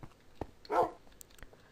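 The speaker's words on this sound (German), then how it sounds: "Geh, mein kleiner Hund, du." A tamed dog in the video game Minecraft barks, with a short sharp yip followed by a louder bark and a few small clicks, fairly quiet overall.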